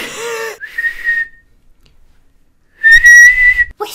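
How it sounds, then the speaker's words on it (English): Two sharp, high whistle blasts separated by a pause, the second longer and louder, with brief vocal sounds around them. "Whistle!"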